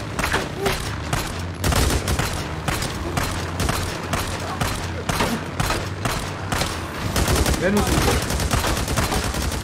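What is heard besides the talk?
machine gun fire in a zombie apocalypse video game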